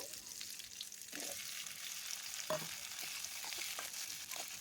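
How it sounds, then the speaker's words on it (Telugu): Chopped tomato pieces fry in oil with curry leaves for a breakfast chutney, giving a steady close sizzle with a few scraping stir sounds and no talking. "అవి కొంచెం వేగిన తర్వాత నేను తరిగి పెట్టుకున్న టమాటా ముక్కలు వేసుకున్నాను."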